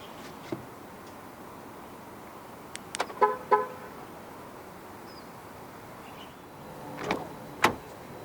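Power windows on a 2024 GAC GS3 Emzoom 1.5 Turbo roll up together, with short motor whirs and clicks around the middle and a brief chirp near the end, close and otherwise quiet.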